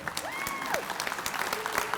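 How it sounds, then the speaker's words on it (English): A breakfast crowd applauds a group gathered at the front, dense clapping throughout with a voice or whistle-like tone rising and falling over it. "round of applause for this really good-looking group."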